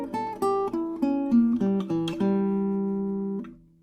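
Clean guitar picks out a passage from a song, a run of distinct plucked notes settling into a ringing sustained chord that fades, alone with no talking.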